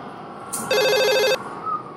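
A telephone rings once with a short burst of electronic trilling bell tones, fairly clear over a quiet room background.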